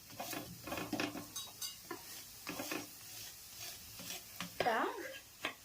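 Aloo paratha frying in oil on a pan over low heat, a steady sizzle with scraping and stirring clatter of a spatula against the pan, close and fairly quiet.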